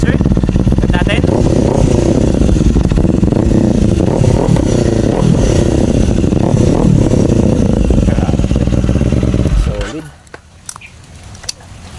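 A Kawasaki Z500 inline-twin motorcycle fitted with an SC Project MotoGP exhaust idles with the silencer removed, a loud, close, steady burbling drone that cuts off near the end, with someone talking over it.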